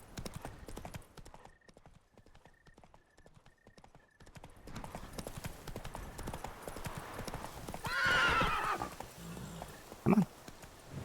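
Horse galloping and neighing in The Witcher 3 video game, steady rapid hoofbeats throughout with a loud whinny near the end and a short sharp thud after, with speech faintly mixed in.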